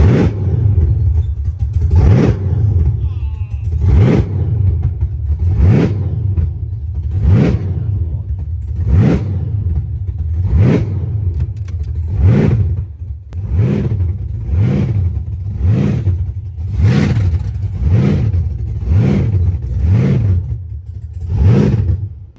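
A car or wagon engine runs with rhythmic revving, swelling in steady repeated pulses of throttle over a low rumble, loud and close with no talk.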